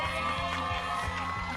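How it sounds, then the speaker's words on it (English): Families cheering at a wedding, a lively blend of voices shouting and whooping together, moderately loud and sustained, with some voices mixed in. "the cheering from their families is so sweet"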